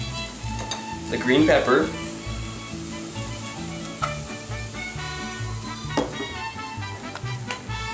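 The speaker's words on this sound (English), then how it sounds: "you're going to need 2 tablespoons of vegetable oil in this pan, and you're going to dump the onions in" Onions and green pepper sizzle and fry in vegetable oil in a pan, a steady close crackle with stirring scrapes near the start, while a person talks over the cooking.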